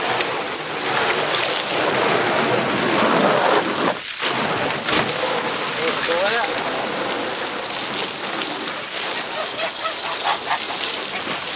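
Water runs steadily from a hose into a farm animal's water container after the muddy water has been dumped out and the container rinsed, a constant loud rushing and splashing that lasts throughout outdoors on a hobby farm in January.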